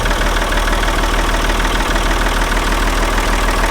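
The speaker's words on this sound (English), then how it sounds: "So now he's gonna hit the starter and boom." A 1975 Ford 550 backhoe diesel engine runs at a steady rumbling idle, close and loud, with a rhythmic low knock throughout, following a fuel filter change and air bleeding.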